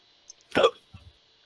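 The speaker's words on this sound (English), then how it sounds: "I've got hiccups." A single sharp hiccup bursts out loud and close, followed by a faint low murmur.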